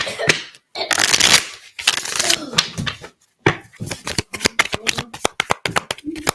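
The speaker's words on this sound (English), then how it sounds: "Let's go ahead and do a full shuffle." A deck of tarot cards is riffled and shuffled close up in quick crackling bursts and rapid clicking flutters, with brief pauses between shuffles.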